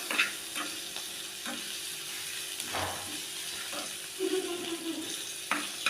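Paneer toasting in a pan gives a soft, steady sizzle and hiss with occasional light stirring scrapes and clinks, close but quiet.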